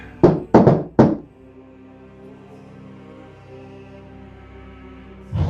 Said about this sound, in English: I will knock on the door.